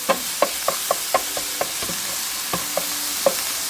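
Ground meat for cheeseburger spring rolls sizzles in a pan with a continuous frying hiss, punctuated by sharp periodic clicks and taps of a utensil stirring against the pan.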